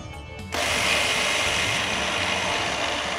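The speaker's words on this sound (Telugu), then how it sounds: "ఇదే మిక్సర్ జార్లో నీళ్లు వెంపేసి నానపెట్టిన బియ్యాన్ని వేసి రుబ్బుకోవాలి" A kitchen mixer grinder starts up with a jolt and runs steadily, grinding soaked rice with water in its jar for idli batter, a loud continuous whirring drone close by with no talking.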